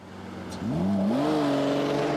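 A fiercely quick supercar pulls away hard on a test track, engine note climbing steeply through the revs and settling into a loud, sustained high drone as it accelerates away, with no talk.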